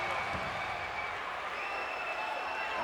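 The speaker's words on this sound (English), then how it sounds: "listen to the crowd respond to him" A wrestling arena crowd roars and applauds as the Junkyard Dog makes his entrance, a steady, fairly distant wash of cheering that holds throughout without a break.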